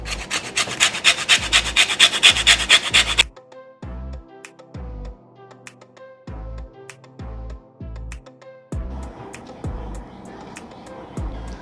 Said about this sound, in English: Now I'm gonna add 2 tablespoons of lemon zest.